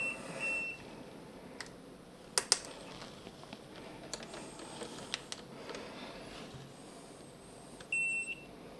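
Short electronic beeps from an ANENG VD807 voltage tester sound at scattered moments, including a brief sustained tone near the end, over faint keyboard clicks and background hiss.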